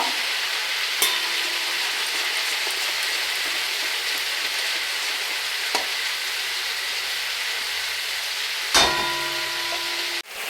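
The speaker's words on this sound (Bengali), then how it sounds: "মশলাটা আমি ভালোভাবে একটু কষিয়ে নেব" Spice masala is sautéed in oil in a pan with a steady, hiss-like sizzle, while occasional spatula knocks and a louder clatter near the end break through.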